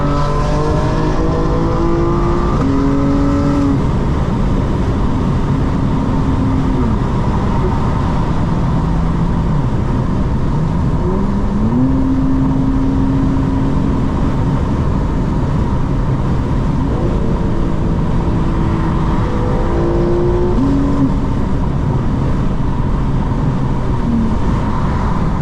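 A 2025 BMW M4 Competition xDrive accelerates hard through a series of gears, its engine note climbing and dropping with each shift, loud and steady from inside the car with constant road and wind noise beneath.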